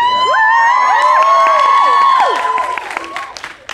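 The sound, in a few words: audience cheering and applause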